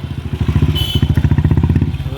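A motorcycle engine putters loudly and rhythmically close by as bikes pass, with a voice talking over it.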